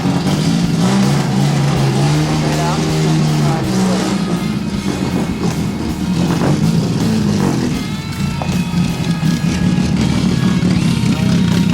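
A 24 Hours of Lemons race car pulls away with its engine revving loudly and unevenly, a rough sustained roar with rising and falling pitch, and voices talking over it.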